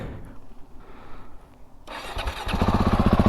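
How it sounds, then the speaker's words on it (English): A KTM 690 Enduro R motorcycle with an aftermarket exhaust idles quietly, then fires up and settles into a loud, throaty rumble with rapid pulsing beats from the exhaust. "I love that exhaust. It's got a better quality sound than the stock,"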